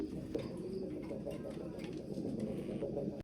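Pigeons of fancy breeds such as Mundian, King and Lahore coo steadily in a low, continuous murmur at a farm, the soft calls overlapping throughout with no clear break.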